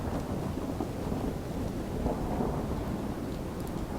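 Rain and thunder in the Third Age Total War strategy game: a continuous dense hiss of rain with a low rolling thunder rumble underneath, steady and fairly loud throughout, no talk.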